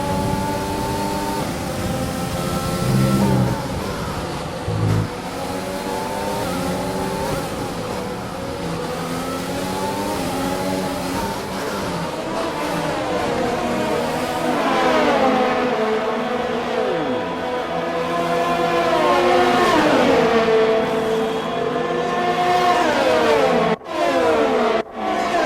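An F1 2020 race car engine in a video game revs hard and continuously, its pitch climbing and dropping through repeated gear changes, loud and close throughout.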